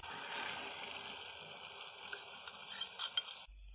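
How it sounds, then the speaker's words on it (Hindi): Spice masala for egg gravy frying in a pan, a soft, steady sizzle with stirring, followed near the end by several clinking scrapes of a utensil before it stops abruptly; faint overall, no talking. "अब हम मसाले को 4 से 5 मिनट अच्छे तरीके से भून लेंगे।"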